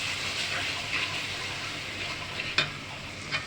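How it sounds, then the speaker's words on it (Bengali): Spice masala with garlic fries in a pan for a chicken roast, giving a steady, moderate sizzle broken by a few sharper scrapes of a spoon. "এই যে মশলাটা কষানো হয়ে আসছে"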